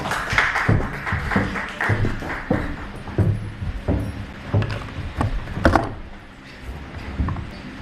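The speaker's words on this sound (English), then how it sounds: "Can we give her a round of applause?" A crowd applauds at a women's committee event with scattered, uneven clapping that thins out toward the end, with a few louder claps standing out.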